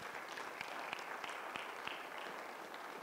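A church congregation claps during a worship service, with fairly quiet, steady applause and a few sharper individual claps standing out at an irregular rhythm.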